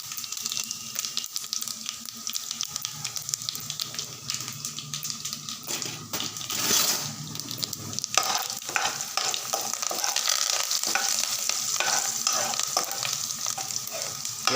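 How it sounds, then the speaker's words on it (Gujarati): Cumin and turmeric stirred in a pan for Kathiyawadi kadhi give a continuous close sizzle, with scraping stirring strokes that grow busier partway through. "પછી થોડું જીરું, હળદર, આટલા મસાલા નાખ્યા પછી એકવાર હલાવી લઈએ"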